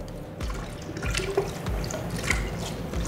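Water sloshes and swirls steadily inside a measuring pitcher during homebrew sanitizing, a continuous close liquid churning with small splashes and no talking.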